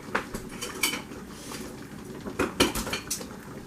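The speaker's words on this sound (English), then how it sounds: "you're just gonna stir that in" A utensil stirs sugar into a pot of Alfredo sauce, with repeated metallic scrapes and clinks against the pot in an uneven rhythm, close and fairly loud.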